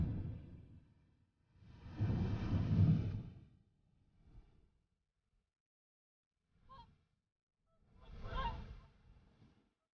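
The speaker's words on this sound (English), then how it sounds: "Hooper swans." Whooper swans call at Loch Gruinart on Islay in autumn, trumpeting honks in a few separate bursts, one long loud group followed by shorter calls, moderately close with quiet gaps between.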